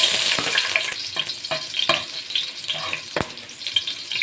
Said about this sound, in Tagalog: magigisa na ako